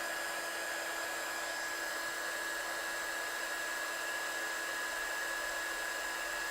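A heat embossing gun blows hot air in a steady, unbroken whine with a high tone, close and constant throughout.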